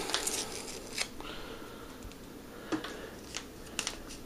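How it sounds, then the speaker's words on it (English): A packet of special winemaking yeast is torn open at the top, heard as several short crinkly rips and paper rustles close by, separated by brief quieter gaps. "tear off the top"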